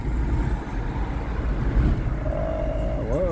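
Cars drive past on a road near a repaired 2021 Nissan Rogue, a steady rumbling road noise from moving vehicles that swells and fades over a few seconds.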